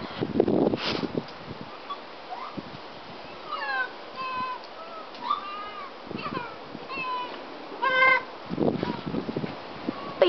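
Several high, chirping mewls and squeaky calls from lemurs come in short bursts, cat-like but odd, with rustling and handling noises in between.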